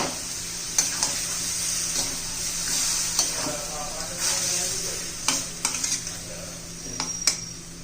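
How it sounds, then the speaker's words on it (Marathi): Steady sizzling in a pan with repeated scraping and clattering strokes of a spoon stirring cluster beans, close and continuous throughout. "आता एकदा मी हलवून घेते व्यवस्थित"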